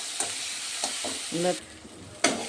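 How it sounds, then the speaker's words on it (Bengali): Garlic paste fries in a pan for a shakoch fish curry: a close, crackling sizzle with several spatula scrapes, one brief tonal squeak midway and a sharp stirring knock near the end. "এগুলোকে আমি এখন ভালো করে একটু কষিয়ে নেব।"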